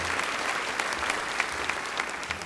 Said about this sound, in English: Can you all join me in a round of applause?